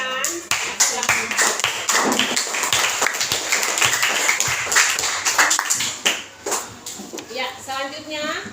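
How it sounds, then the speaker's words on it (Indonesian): A class of schoolchildren claps for a fish group presentation, with a burst of lively, uneven clapping and children's chatter mixed in, close and fairly loud, tapering toward the end. "Tepuk tangan buat kelompok ikan."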